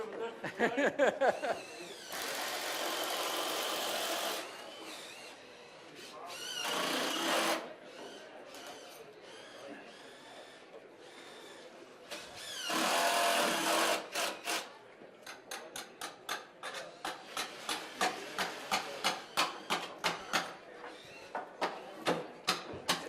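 A hand or power drill boring a pilot hole for a wooden guard post, heard in several sustained bursts of whirring followed by a run of rapid rhythmic strokes, fairly close and loud.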